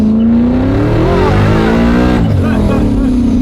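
A Ford Mustang V8 engine revs loud and close, a deep steady roar whose pitch climbs and dips smoothly across a few seconds, with a person speaking over it.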